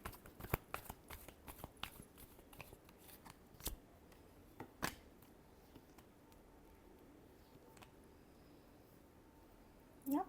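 Tarot cards being shuffled by hand give a run of crisp, irregular riffling snaps and taps, dense at first then sparser, close and quiet with no speech.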